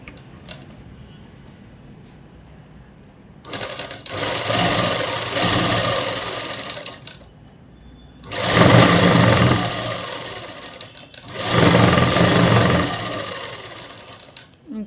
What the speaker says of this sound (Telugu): హ్యాండ్స్ ముందుగా అనేది కింద మడిచి అనేది కుట్టు వేసేసుకున్నాము.